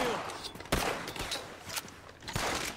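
Gunfire in the video game Red Dead Redemption 2, several sharp shots and bursts scattered across the moment, with voices talking over the shooting.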